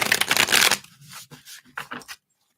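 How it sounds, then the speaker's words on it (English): A deck of reading cards gets shuffled by hand: a close, loud burst of riffling, then a few softer flicks and taps before it stops. "Let me just shuffle these up."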